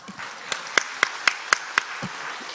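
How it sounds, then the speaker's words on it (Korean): A church congregation claps in a steady, quick rhythm, the sharp claps evenly spaced over a soft background murmur. "하나님께 영광의 박수"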